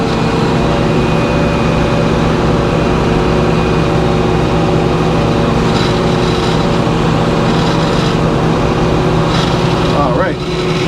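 A sawmill cuts a big white pine log, its engine and blade droning loud and steady throughout, with a brief squeal of the cut near the end.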